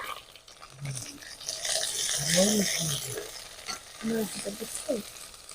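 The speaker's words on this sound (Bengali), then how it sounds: "এবার ভালো করে মশলাটা কষে নি" Ginger, cumin and chilli paste frying in a pan for a vegetarian bamboo shoot dish, sizzling steadily while being stirred and scraped, with a voice talking at moments.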